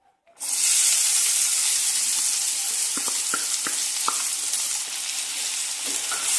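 Chopped onions hit a pan of caramelized sugar with a sudden loud sizzle that keeps up steadily, with a few light stirring clicks over it.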